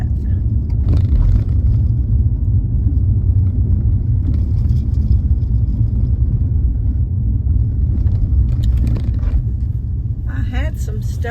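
A car drives along, heard from inside the cabin, with a steady low road rumble and engine drone throughout and a few faint knocks.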